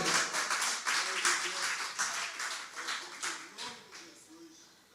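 A church congregation applauds in celebration at a worship service, a dense wash of many hands clapping that fades gradually toward the end, with voices murmuring underneath.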